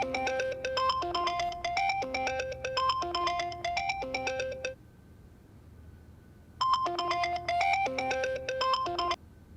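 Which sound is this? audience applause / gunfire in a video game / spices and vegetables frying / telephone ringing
telephone ringing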